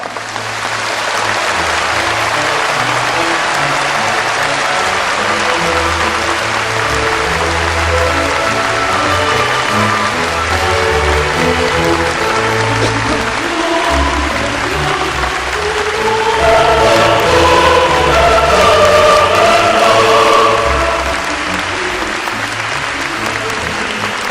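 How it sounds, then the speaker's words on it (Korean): An audience at a Unification Church special rally for world leaders bursts into sustained, dense applause that fills the hall throughout and swells louder toward the end. "천지가 진동하는 우리와 같은 박수로 시작하도록 하겠습니다"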